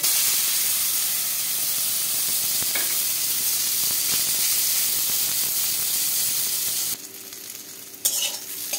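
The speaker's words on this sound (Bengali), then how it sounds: "দিয়ে দেবো সর্ষের তেল, দিয়ে দেবো অল্প হলুদ, আর এই বেগুনটা আগে ভেজে তুলে নেব।" Eggplant fries in hot mustard oil with turmeric in a heated wok, a loud, steady close sizzle and hiss that drops abruptly near the end, followed by a few knocks and softer spitting.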